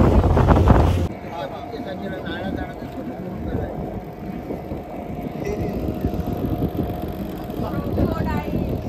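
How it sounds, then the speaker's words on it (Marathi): A boat ride on the sea along the Konkan coast, with a steady engine drone and wind buffeting the microphone throughout, while people talk over it. "आमची बोट राईड चालू झाली आहे."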